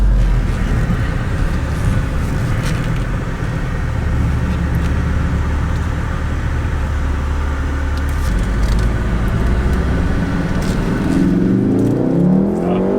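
A Volkswagen Golf R launching hard at full throttle, a loud steady engine roar that builds and rises in pitch near the end, heard from inside the car with no talking.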